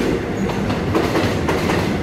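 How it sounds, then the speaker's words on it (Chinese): A Taiwan Railway local express train rumbles past close by, loud and continuous, with rhythmic clattering of wheels over rail joints. "这边有列车通过"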